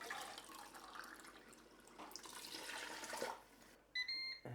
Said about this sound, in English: to get the last bit of juice out of the can, I'm just gonna use some water to rinse that out